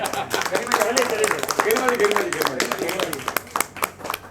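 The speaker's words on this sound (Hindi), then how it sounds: "उनके लिए ताली" Audience clapping at a film mahurat and poster launch event, a steady patter of many hands running under a voice and background music throughout, moderately loud.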